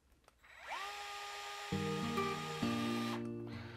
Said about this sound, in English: always be careful not to tighten screws with this power driver